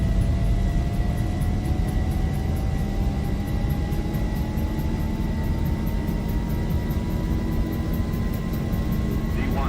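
An airliner's engines whine at high power during a takeoff roll in the X-Plane 11 flight simulator, a loud steady roar with a tone that climbs slowly as speed builds, and a voice speaks briefly over it.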